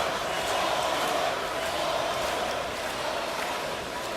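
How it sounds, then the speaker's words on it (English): Arena crowd in a basketball game chanting and cheering the name of injured player Paul George, a dense, steady roar of many voices filling the space with a rhythmic chant rising through it. "So now they're cheering his name."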